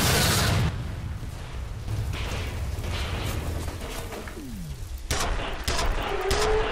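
Gunshots in the first-person shooter F.E.A.R. come as a loud burst at the start and a few sharp shots near the end, with game ambience and mechanical noise between them.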